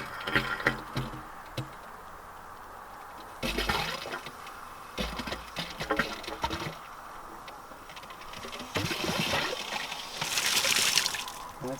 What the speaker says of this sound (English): turn a little water on, not run too much, but just make sure everything's flowing